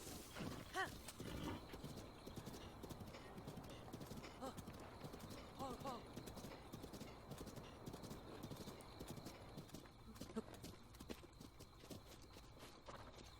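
A fast horse gallops in The Legend of Zelda: Breath of the Wild with steady rhythmic hoofbeats and a brief whinny. A player talks over the hooves throughout.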